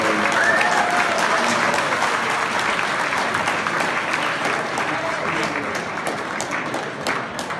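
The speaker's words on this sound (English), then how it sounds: "can we just give Floyd a round of applause?" An audience at a live interview event in Birmingham applauds Floyd Mayweather with loud, sustained, dense clapping that fills the room and fades slightly toward the end, with no distinct voices.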